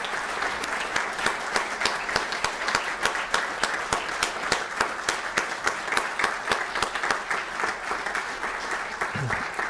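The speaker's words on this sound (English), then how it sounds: "How about a round of applause for their service?" A roomful of people applauds steadily, with dense clapping sustained throughout at an even level.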